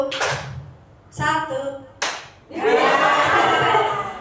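Participants in a training-session clapping game clap hands in sharp bursts: a crisp clap, a short ringing flurry, another clap, then a sustained round of many hands clapping loudly together.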